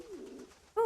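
Pigeons coo in the video game Nusantara: Bermuda Triangle, a soft low burbling that swells into a louder, clearer coo at the end, close and alone.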